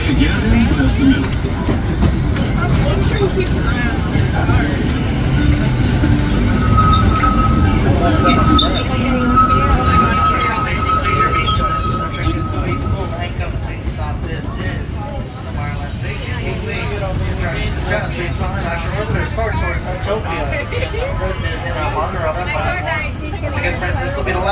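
A Disneyland Railroad steam train rumbles and clatters along while a voice talks over it, the running noise gradually softening toward the end.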